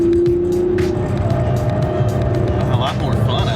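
A 2013 Hyundai Genesis Coupe 3.8 V6 is driven hard on a racetrack, its engine holding a steady loud drone with a brief rising rev near the end, while someone talks over it.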